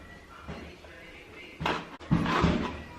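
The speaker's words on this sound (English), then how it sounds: "I'm going to open it with this screwdriver" A cardboard subscription box is pried open with a small screwdriver-type tool. Soft scraping gives way to a sharper crack and then rustling cardboard noises, faint and close, with no talking.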